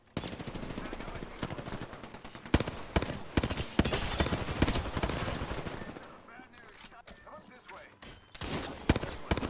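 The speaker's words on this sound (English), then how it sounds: "I shot your decoy and missed the guy next to him." Gunfire in a video game firefight as a decoy gets shot: sharp single shots and automatic bursts, with players talking over parts of it and a quieter stretch near the end.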